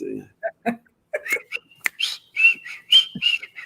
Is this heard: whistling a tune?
yes